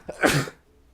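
A single person sneezes once, close and sharp, a brief burst lasting under half a second and then quiet, with no speech.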